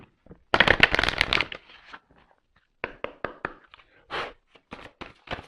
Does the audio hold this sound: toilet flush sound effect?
no